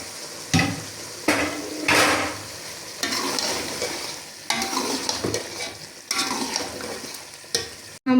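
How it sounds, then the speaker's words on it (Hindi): Whole spices (cloves, cinnamon pieces, black peppercorns and cumin) dry-roasting in a pan over high flame for chicken karahi, with dry crackling, scraping stirs and occasional clinks of a utensil against the pan. "हम भून लेते हैं अच्छी तरह 6 से 7 मिनट के लिए तेज़ आंच पे।"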